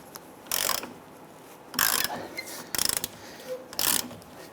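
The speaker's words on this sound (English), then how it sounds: "Using a 15mm wrench on the front side of the lower shock bolt and an 18mm on the nut on the back side, we want to go ahead and loosen this nut." A wrench ratchets on the lower shock bolt nut of a 2005-2010 Chrysler 300, four separate bursts of rapid clicking close by with short quiet gaps between them, no talk.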